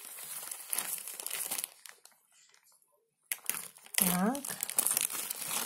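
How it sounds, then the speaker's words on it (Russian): Vacuum-sealed plastic packaging around a pillow crinkles loudly up close, then falls quiet before crackling again as people speak nearby. "сейчас мы откроем упаковку, посмотрим, что произойдет"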